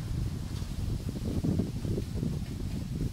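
Low, rumbling wind buffets the microphone in steady gusts, loud and close, with no other clear sounds.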